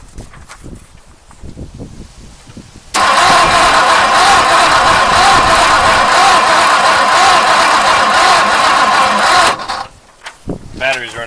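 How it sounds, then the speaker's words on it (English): A 1959 Mercury Monterey that has sat unused for a decade cranks on its starter for about seven seconds, a loud steady churning with the rapid clicking of the ignition points, then cuts off, followed by faint handling noises. "you can hear the little click, click, click, click, click of the points opening and closing"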